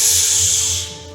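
A human voice imitates acid spraying out of a body with a loud, sustained hissing spray that fades away over about a second.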